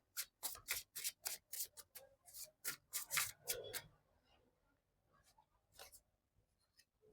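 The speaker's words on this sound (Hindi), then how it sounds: "लेट मी बोल सम more cards for pile number 3 to have more clarity." Tarot cards are drawn and shuffled from a deck in a quick series of soft, close papery flicks, about a dozen in a steady rhythm, then a few scattered slides.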